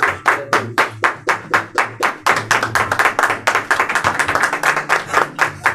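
A church congregation gives a pastor a loud welcome, clapping in a strong, rhythmic unison beat that speeds up slightly partway through, with a low hum underneath.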